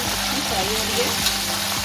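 Schnitzel frying in a pan gives a dense, continuous sizzle and crackle at close range, steady and loud throughout with no pauses.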